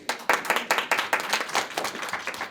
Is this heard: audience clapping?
yes